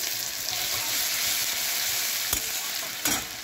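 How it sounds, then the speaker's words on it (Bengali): Chopped onions sizzle in hot oil in a wok, a steady close hiss with two sharp clinks of a stirring spoon near the end. "কড়ার তেল গরম হয়ে গেছে, কুচনো পেঁয়াজ করে দেবো। পেঁয়াজটা নাড়িয়ে টাড়িয়ে ভালো করে ভাজা করে নেবো।"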